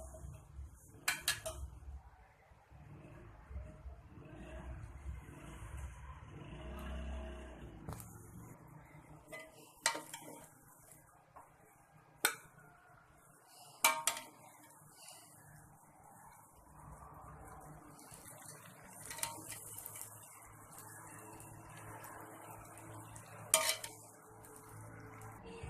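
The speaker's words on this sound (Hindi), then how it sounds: "अब हम इसे डिश आउट करते हैं।" Chicken biryani is served from the pot onto a dish, with sporadic metal spoon scrapes and clinks against the pot, quiet and close, separated by pauses.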